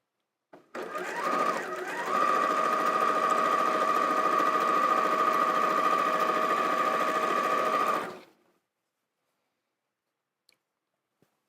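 A sewing machine chain pieces half square triangles for a quilt block, running steadily and close for about seven seconds with a strong even whir, then stopping into silence.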